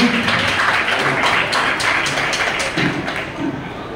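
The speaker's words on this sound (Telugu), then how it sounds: "shall we all give big round of applause to our beloved women" A church audience claps in a round of applause, a dense, fairly loud patter of many hands that slowly thins out, with faint voices underneath.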